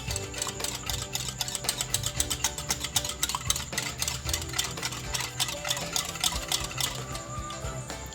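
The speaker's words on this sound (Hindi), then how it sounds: "इसको मैं फेंट देती हूँ थोड़ा सा, ताकि जो मसाले हमारे हैं वो अच्छे से इसमें मिक्स हो जाए" Egg mixture with spices being whisked for a bread and egg sandwich, a rapid steady ticking of utensil against bowl running throughout, close and fairly loud with no talk.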